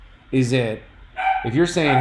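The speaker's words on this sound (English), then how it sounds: "Sorry for my dog barking." A dog barks twice in sharp, close yaps, overlapping with a person talking.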